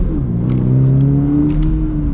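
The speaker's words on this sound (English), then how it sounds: "Get a little acceleration here." A 2025 Toyota 86 Hakone Edition sports car accelerates, its engine note rising steadily and loud from inside the cabin for about two seconds.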